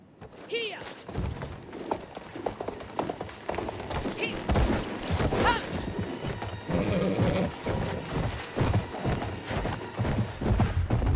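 Horses galloping in the video game Battlefield 1, a rapid clatter of hooves with thuds and a whinny, mixed with game effects and a voice talking over it.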